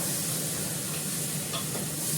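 Masala sautéing in a pan, a steady close sizzle with faint stirring, moderately quiet and without talk.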